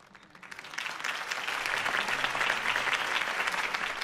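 Applause from a crowd in a video game swells up after a quiet start and holds steady, a dense wash of clapping throughout, following a campaign speech.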